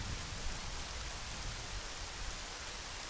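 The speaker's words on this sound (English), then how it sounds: "It's been raining like all day." Steady rainfall in The Legend of Zelda: Majora's Mask, an even, soft hiss of drops on surfaces that continues without a break.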